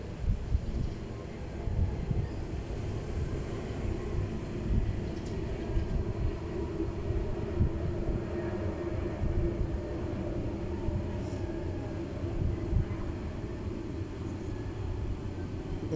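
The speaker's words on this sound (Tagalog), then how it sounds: "Dumadaan pa yung eroplano guys habang nag-voice over ako." A distant airplane passes overhead with a steady low rumbling drone that fills the whole stretch, broad and continuous with slight swells, no one speaking.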